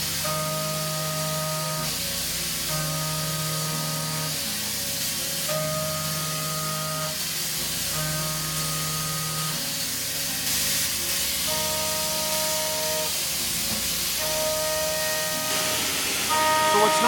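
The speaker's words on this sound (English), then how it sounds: "in this case we're cutting steel, but we're not doing a heavy aggressive cutting demo" Haas CNC machine cutting steel with the spindle near 15,000 RPM and fast rapids: a continuous loud hiss of coolant spray overlaid by steady whining tones that start, stop and shift pitch in short stepped segments.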